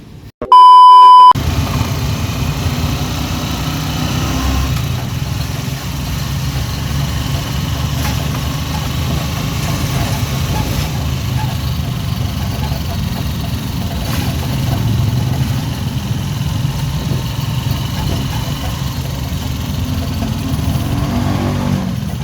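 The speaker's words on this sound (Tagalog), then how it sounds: "Sakay tayo ng tricycle dito." A motorized tricycle rides along in the Philippines, its small engine running steadily and loud throughout, rough and close with a faint rise partway through, opening with a short electronic beep.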